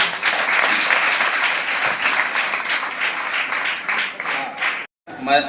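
An audience applauds for the chief guest, an RTO official, at a local gathering in a Telangana mandal centre, with dense steady clapping that drops out briefly near the end and then resumes.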